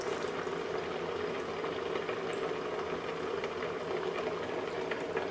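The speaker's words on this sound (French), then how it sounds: "On va rajouter aussi donc 25 centilitres d'eau, de l'eau froide." Cold water being poured into a pot of cabbage with dry white wine for a potée, giving a steady, continuous liquid rush and bubbling close by, with no talk.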